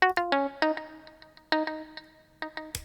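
A software Stratocaster guitar runs a funky lick through a tweed amp and big room reverb, with bright, slightly gritty plucked notes and ringing tails in a syncopated rhythm, heard close and alone.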